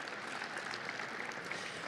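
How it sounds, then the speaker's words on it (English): Audience clapping at a Red Raider Club tipoff luncheon, a faint, even wash of many hands applauding at a distance with no talking. "Now we can clap."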